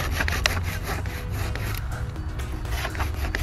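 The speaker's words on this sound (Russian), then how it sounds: "ну я решил пилить вот так вот две полоски, иначе закусывают пилу" A hand saw cuts through a fallen tree lying across a forest road, producing continuous rhythmic rasping strokes close by with no voices.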